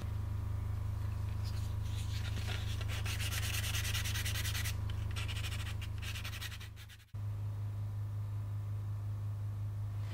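Fine-grit sandpaper rubs back and forth on a close-grained hardwood knife handle, making a brisk scratchy rasp over a constant low machine hum. The rubbing stops partway through and leaves only the hum.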